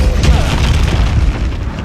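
A heavy, booming slam from the Descendo spell in Hogwarts Legacy, loud and low with a rumbling body, and a faint voice underneath.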